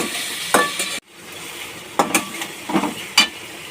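Vinegar stirred into a pan for homemade wheat pasta: a close sizzle under several sharp spoon scrapes and clinks against the pan, with a brief pause after the first stroke.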